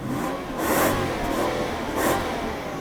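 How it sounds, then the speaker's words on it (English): Two smooth, quiet revs from a Toyota Century V12 swell and fall back toward idle, heard close up and with no talking. "Go on, give it some more revs."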